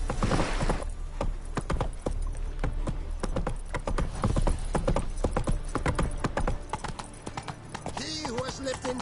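Roach, Geralt's horse in the video game The Witcher 3, clip-clops along in a steady run of hoofbeats under background music and voices that talk throughout, ending in a brief whinny.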